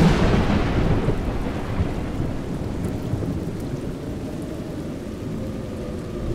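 Heavy rain pours steadily in the video game A Juggler's Tale, with a loud rumble of thunder at the start fading into a continuous close hiss of rainfall.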